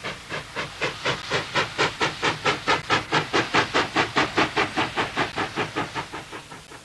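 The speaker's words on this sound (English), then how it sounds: "a huge locomotive built for South African Railways by the North British Works in Glasgow, Scotland in 1953" A 1953 North British Works steam locomotive built in Glasgow for South African Railways puffs and hisses in a loud, regular chuffing rhythm, about four beats a second, close by and unbroken.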